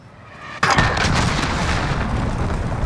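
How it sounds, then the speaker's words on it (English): A cruise missile strike in a video game: a sudden loud blast hits after a brief rising whoosh, followed by a sustained roaring, crackling rumble that slowly fades, close and powerful. "Allied cruise missile launched"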